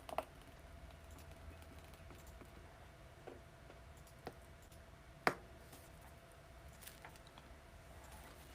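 Typing on a loud gaming keyboard, faint scattered key clicks with a few sharper taps, set against quiet room noise with no talking.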